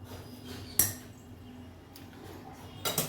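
A small metal kadai meets the stovetop with one sharp clank, then quiet with a low steady hum and a few softer metallic knocks near the end, close by with no talk.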